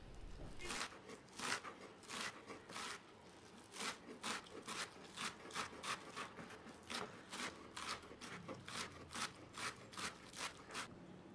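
Green onions being finely chopped with a knife, a steady run of quick, faint crisp cuts tapping on a board in an even rhythm, close by and alone.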